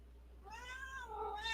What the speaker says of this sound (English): My cat's like, meow.